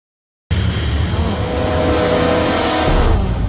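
A car engine bursts in abruptly after a brief silence and runs loud and close, a rough steady roar with slight revving and rising intensity near the end, no voices.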